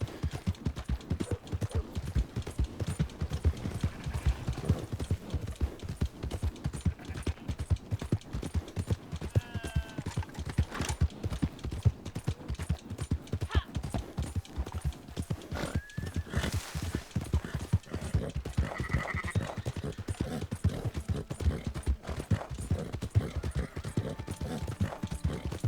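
Horse hooves galloping through a town in Red Dead Redemption, a rapid continuous clip-clop rhythm with occasional snorts and whinnies, steady and close throughout.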